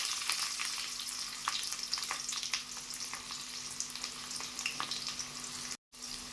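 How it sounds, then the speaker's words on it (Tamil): Onions sizzle and crackle in hot oil with mustard seeds for an oyster mushroom gravy, a steady close frying hiss with scattered pops and stirring scrapes, cut by a brief dropout near the end. "நம்ம வெங்காயத்தை சேர்த்துக்கலாம்."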